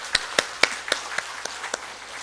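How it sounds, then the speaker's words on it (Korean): Scattered, sparse claps from a church congregation during a Sunday morning worship service in Bucheon, a handful of separate sharp hits spread unevenly rather than a full ovation, fairly quiet against a low room hum. "그분에게 영광의 박수를 한번 올려드리십시다."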